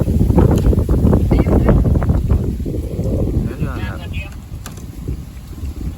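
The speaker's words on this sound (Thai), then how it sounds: "ลม" Gusty wind buffets the microphone outdoors near a waterfall, a loud rumbling roar strongest at the start and easing slightly, with someone talking over it.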